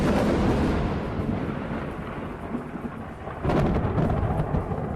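Rumbling thunderstorm with steady rain used as a radio ad sound effect, a continuous low roll of thunder under dense rainfall that surges louder near the end, with no voices.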